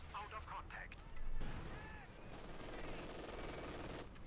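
Machine gun fire and a mix of rifle shots crackle in a Company of Heroes 2 battle as infantry assault the gun position head on, a quiet, steady stream of rapid bursts beneath talking.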